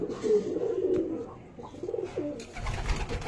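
A fancy Andra Fulshira pigeon coos in low, repeated rounded calls up close, with light bird chirps and rustling near the end.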